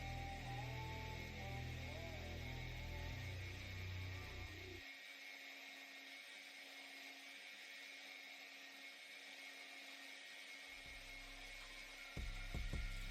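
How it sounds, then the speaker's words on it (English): A grinder whines steadily while cutting notches one at a time into a knife blade for a rock pattern. The high, sustained tone shifts in pitch as pressure changes and continues alone throughout. "You can see how I'm grinding each notch separately"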